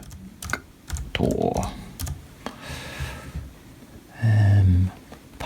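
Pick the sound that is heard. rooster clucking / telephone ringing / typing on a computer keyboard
typing on a computer keyboard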